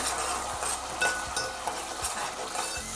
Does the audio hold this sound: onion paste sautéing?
yes